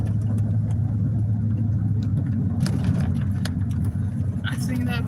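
A truck drives along a rough road, giving a steady low engine rumble with rattles and knocks from the cab, and a voice talks over it.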